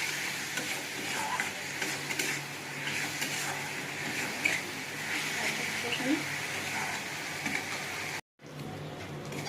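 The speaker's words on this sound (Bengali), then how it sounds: "সামান্য একটু জল দেবো, এতে মশলাটা না ফেলে যায়, একটু জল দেবো দিয়ে এটা ভালো করে একটু কষে নেবো" Ginger-garlic spice masala with green chilli and a splash of water sizzles and is stirred in a pan for soybean curry, with a steady frying hiss and utensil scrapes while someone talks throughout.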